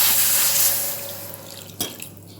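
Water runs and splashes steadily into a pan of mixed spleen fry, fading toward the end, followed by a brief clatter and a few small drips.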